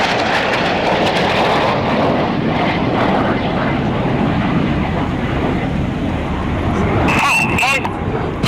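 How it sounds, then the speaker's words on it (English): RAF Red Arrows jets at RIAT 2024 roaring through an aileron roll display, a loud continuous broadband jet rumble filling the whole stretch with a brief swelling whine near the end and commentary mixed in. "each aircraft will conduct a 360-degree aileron roll."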